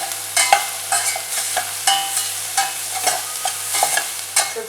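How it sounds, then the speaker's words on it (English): Spices with asafoetida and salt being stirred in a frying pan for spicy garlic onion rice: rhythmic scraping strokes over a low sizzle, close and clear, with no voices. "I'm going to mix everything and I'm going to let it cook for about a minute"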